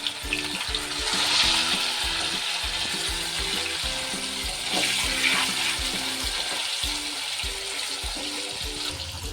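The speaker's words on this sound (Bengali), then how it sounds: "তেলটা গরম হয়ে গেছে, পনিরগুলো প্রথম ভেজে নেব।" Paneer pieces, lightly salted, sizzle steadily in hot oil, a close, continuous crackling fry with faint clatter of a utensil.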